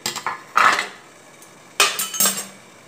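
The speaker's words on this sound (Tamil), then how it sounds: "இப்போ பாருங்கள் ஒரு தட்டில் நான் வந்து இதை கொட்டிடுறேன்" Steamed idiyappam made from ration rice tipped out onto a plate, giving a few short clinks and knocks of dishware in two separate bursts, close and fairly clear with no talking.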